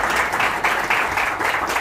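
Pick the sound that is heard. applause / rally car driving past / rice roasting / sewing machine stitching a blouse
applause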